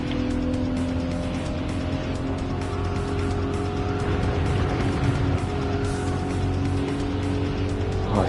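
A 1988 Toyota Supra 3.0GT Turbo A engine drones steadily with a smooth, sustained roar, loud and close, holding a constant tone throughout.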